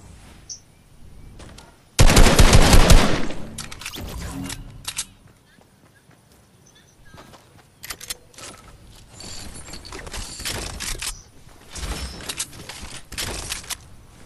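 Gunfire in a video game, a loud burst of rapid automatic fire followed by scattered shorter bursts and single shots, with someone talking at times.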